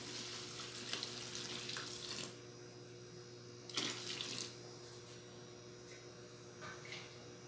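Water poured into a container while making homemade liquid soap, about two litres at room temperature added to a batch; a steady, fairly quiet splashing stream with a couple of louder gushes and no talk.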